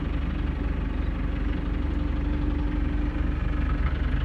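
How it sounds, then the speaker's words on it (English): A telehandler engine runs steadily on a farm, a continuous low diesel rumble with a regular throb, close and unchanging, with no voices. "Very handy to have this telehandler doing this job."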